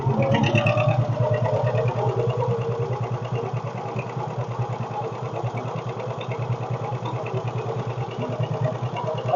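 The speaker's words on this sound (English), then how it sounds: "get the tractor going again." A John Deere 620 tractor engine runs with a loud, steady low chugging throb and mechanical clatter, close by, briefly revving harder at first before settling into an even rhythm.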